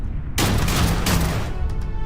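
A powerful weapon fires in Starfield during a very hard fight against the Terrormorph: after a brief quiet moment, a loud, sustained burst of gunfire erupts and keeps rolling without pause.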